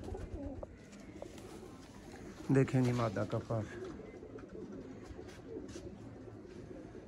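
Soft, repeated Sialkoti pigeon coos sit beneath someone talking, with a brief louder burst of cooing midway.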